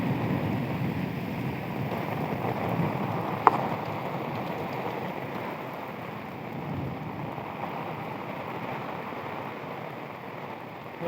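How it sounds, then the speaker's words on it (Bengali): Heavy rain falls over Geneva Camp in Dhaka, a steady, moderately loud hiss of drops on surfaces that lasts throughout, with one sharp click partway through. "আবার বৃষ্টি, এটা জেনেভা ক্যাম্প।"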